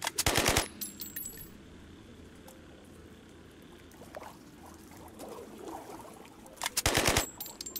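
In the video game HighWater, two loud bursts of rapid automatic gunfire open and close the passage, with quieter water and ambient noise in the gap between them.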